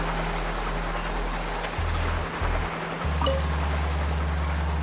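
Rushing water churns steadily as a character surfs and carves across waves in Genshin Impact, a continuous loud wash with a low engine-like drone underneath, unbroken by talk.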